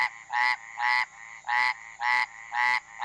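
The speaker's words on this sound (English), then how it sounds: "That's the cask-headed frog." Casque-headed frog from Arizona croaking close and loud, five or six evenly spaced nasal, buzzing calls in a steady rhythm with no other sounds.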